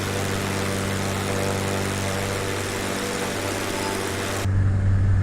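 Loud, steady drone of an airplane engine heard from outside the aircraft in Flight Simulator X, running continuously before the sound cuts abruptly to a muffled, bass-heavy hum as the view moves inside.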